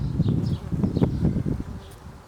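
Bees buzz close by around flowering daikon radish plants in a garden, a soft, wavering drone with a few brief rises, over faint rustling in the background.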